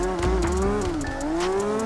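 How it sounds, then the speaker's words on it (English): A drift car in CarX Drift Racing Online screams at max revs in fourth gear, a steady high engine whine that dips slightly and climbs again, loud and continuous with tire noise underneath. "Just max revving this fourth gear."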